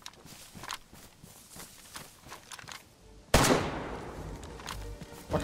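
Gunfire in the video game DayZ: faint, scattered sharp shots early on, then a sudden loud burst that bursts into a harsh, noisy roar lasting several seconds, with no talk.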